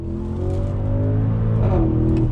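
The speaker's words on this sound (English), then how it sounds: "you're getting that wonderful V8 sound" A 2021 Audi SQ7's twin-turbo V8 pulls hard under throttle in dynamic mode, a loud, deep rising engine note heard from inside the SUV, continuous and building with no talk.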